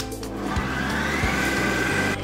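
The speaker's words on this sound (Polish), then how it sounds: "Będziemy miksować razem cukier, jajka i żółtka." An electric hand mixer whirs steadily as it beats sugar, whole eggs and yolks together, a continuous close motor drone with a faint rising whine and occasional low knocks of the beaters against the bowl.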